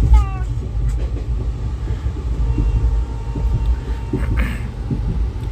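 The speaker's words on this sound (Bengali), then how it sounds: "তো আমাদের ট্রেন এখন লন্ডা জংশন ক্রস করে এখন দারওয়াদের দিকে যাচ্ছে" Passenger train 18048 Vasco-da-Gama–Shalimar Amaravati Express rolling on the rails past Londa Junction toward Dharwad: a steady low rumble from inside the carriage, with faint clicks and soft whines above it.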